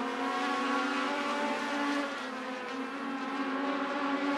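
Legends race cars circling the Hawkeye Downs Speedway during a Midwest Tour feature, a dense, continuous engine drone with layered harmonic whine that swells and dips slightly as the field works through lap traffic.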